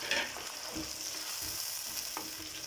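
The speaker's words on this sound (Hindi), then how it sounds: "प्याज और आलू फ्राई कर सकते।" Sliced onion and potatoes fry in a pan with a steady, close sizzle and occasional stirring scrapes, no talking.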